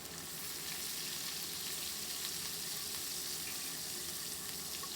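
Green chilies sizzle steadily in hot oil with cumin and fennel seeds for a dhaba-style paneer dish, a dense, even frying crackle at moderate level with faint stirring and no voices.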